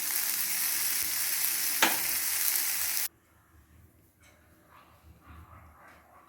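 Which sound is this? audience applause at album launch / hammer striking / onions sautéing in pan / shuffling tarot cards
onions sautéing in pan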